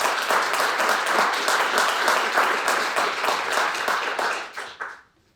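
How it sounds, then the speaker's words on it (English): An audience at a reading and panel discussion breaks into sustained, dense applause that holds steady before thinning out and fading away at the end. "Please give them a round of applause."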